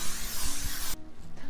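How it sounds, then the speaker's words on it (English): Non-stick cooking spray hisses from an aerosol can onto a baking dish for chicken pot pie, a loud, steady broadband spray lasting about a second before cutting off abruptly, leaving quiet room tone. "We're going to spray our dish"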